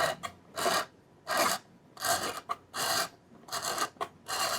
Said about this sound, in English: I'm going to wind it onto the reel.